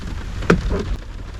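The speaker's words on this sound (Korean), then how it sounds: "빗소리 너무 듣기 좋습니다" Rain falling on a parked Sonata sedan during an overnight car camp in a waterside park in Incheon, a steady dense patter on the car with a brief louder knock, near and continuous with no voices.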